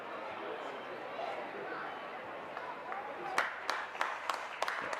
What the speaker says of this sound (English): the audience claps the Kingsway player off